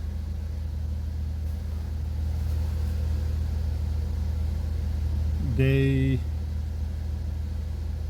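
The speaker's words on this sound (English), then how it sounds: "I've started the engine up" An idling Nissan engine with a CVT transmission fault gives a steady, low-pitched rumble throughout. A brief tonal chime or warning beep cuts in partway through, then the drone carries on alone.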